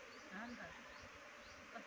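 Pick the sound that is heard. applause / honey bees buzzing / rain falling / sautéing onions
honey bees buzzing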